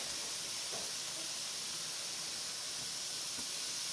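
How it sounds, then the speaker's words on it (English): Minced garlic sizzling in a pan of hot sesame oil, a steady, even hiss of frying that holds at a constant level throughout with no talking. "Next, we're going to put in our minced garlic"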